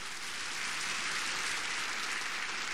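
A television game show studio audience applauds steadily and evenly, a dense, sustained clapping with no voices over it.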